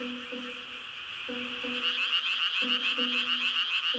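A chorus of frogs croaks in repeated rhythmic bursts in a rice paddy wetland on an early summer night, with a dense high trilling chorus behind them, outdoors and fairly close.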